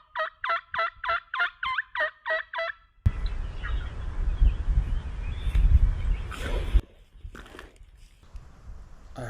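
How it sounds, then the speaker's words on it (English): Wild turkey gobbling during spring hunting season on Arkansas public land: a rapid run of eight gobble pulses, fairly clear, followed by loud wind buffeting and rustling that masks everything afterward. "that was the last gobble I heard that morning"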